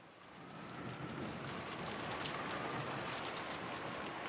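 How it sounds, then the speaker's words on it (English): Steady rain and wind fill an indoor room with a dense, even hiss that swells slightly at the start and then holds at a constant level, with no voices. "as the sound of wind and rain gradually filled the room once again, Erica slowly opened her eyes"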